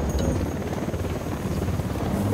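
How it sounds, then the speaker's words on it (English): A cartel supply helicopter in Ghost Recon Wildlands, its rotor thumping in a steady low chop with turbine whine above, continuous and fairly close throughout. "Got eyes on a cartel supply chopper."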